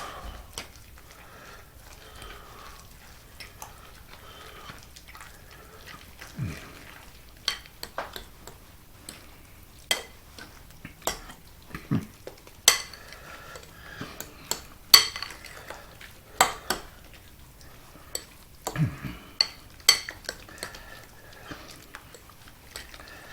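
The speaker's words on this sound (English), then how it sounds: "we're going to go ahead and put our crab meat in" Crab meat goes into a pan and is stirred for seafood enchiladas, with scattered scraping and tapping of a utensil against the pan over quiet background, irregular and close, with no talk.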